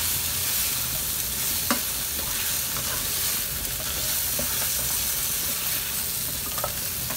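Shrimp with a pinch of sugar hiss and sizzle steadily in a hot pan while a utensil stirs them, producing a few faint clicks and scrapes over the constant frying noise.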